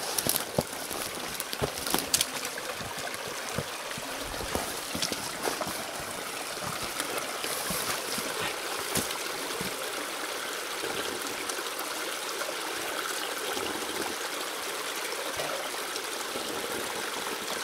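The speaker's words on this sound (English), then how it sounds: "Beautiful little creek." A small spring-fed creek trickles and gurgles along a bush track, a close, steady babble of running water with a few sharper splashes early on and no talking.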